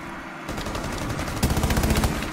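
Rapid automatic gunfire in a first-person shooter video game, a quick run of loud, evenly spaced shots that swells into a denser burst near the end, with no talking.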